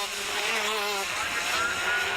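KZ2 125cc kart racing engines with six-speed sequential gearboxes buzz past at a sprint championship final, a high nasal drone rising in pitch then fading and returning, mid-distance.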